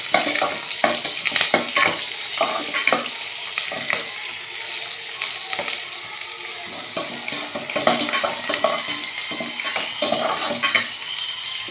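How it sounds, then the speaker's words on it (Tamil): Garlic and other ingredients sauté in a pan for a stingray fish curry, with a moderate sizzle under repeated sharp scraping and clattering stirs from a spoon. "பூண்டு போட்டுக்கலாம். எல்லாம் போட்டு நல்லா வதக்கிக்கலாம்."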